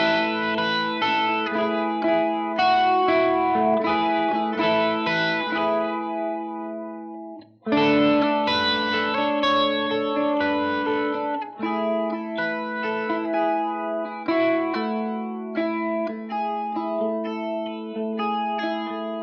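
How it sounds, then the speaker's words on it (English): Clean electric guitar through a chorus pedal, sustained shimmering chords and melodic lines ringing with wide, lush modulation, played alone and loud. "the chorus effect, which is basically, I always like to call it the 80s in a box"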